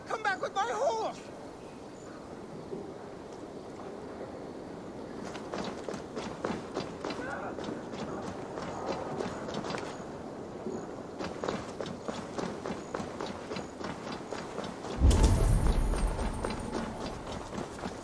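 Horse hooves galloping in the Assassin's Creed Valhalla video game, a quick, regular clip-clop of hoofbeats running steadily, with a louder burst of game sound near the end and someone talking in places.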